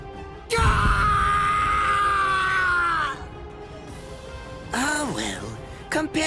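A man's long, loud anguished scream of pain in the Bleach Rebirth of Souls video game, followed by shorter strained cries and groans, with game effects around.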